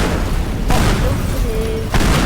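Loud, sustained booming roar of bomb blasts and crashing destruction in the voxel demolition game Teardown, with a vehicle driving through, filling the whole clip with dense rumbling bursts.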